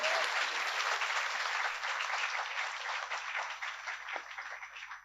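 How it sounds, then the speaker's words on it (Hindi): An audience at a children's poetry gathering breaks into sustained applause, a dense wash of clapping that holds steady for several seconds and slowly thins toward the end. "इनके लिए एक बार जोरदार तालियां होनी चाहिए"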